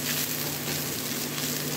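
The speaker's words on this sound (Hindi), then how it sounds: "देखिए दोस्तों अनियन फ्राई हो गया" Onion sizzles in a hot pan while cooking Hariyali dahi mutton, a steady close hiss of frying with faint crackle and no talk.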